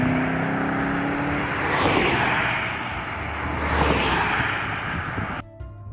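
Cars rush past on a road in Ontario, Canada, two vehicles sweeping by one after another as whooshes that swell and fade over a steady rumble, ending abruptly.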